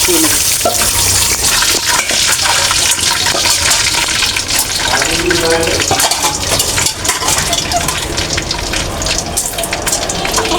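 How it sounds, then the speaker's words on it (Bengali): Meat sizzles and spatters loudly in a hot pan, a dense, unbroken frying hiss with occasional stirring scrapes. "মাংসটাকে সুন্দর করে বেজে নিব এটা আমার মাংসটা সুন্দর করে ভাজা হয়ে গেছে"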